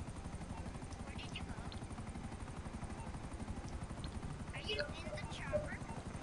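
Helicopter in a GTA video game, a steady rapid rotor chop throughout at moderate level, with brief faint in-game sounds layered over it.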